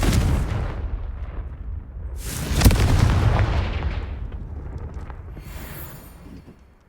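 Confringo fire spell from Hogwarts Legacy: a loud booming blast swells from an opening rumble, peaks in a sharp explosive crack, then rolls into a long fading rumble with scattered debris crackle.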